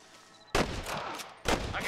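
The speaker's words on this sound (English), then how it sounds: "I can hear more gunshots." Two sharp gunshot bursts in a Red Dead Redemption shootout, fairly loud and close, the first followed by a brief rumbling echo before the second crack lands about a second later.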